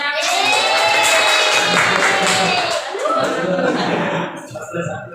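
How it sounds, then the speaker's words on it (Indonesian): Classroom applause: a group of students clapping hands together, dense and sustained for several seconds before tapering off, with voices mixed in. "Tepuk tangan dulu dong."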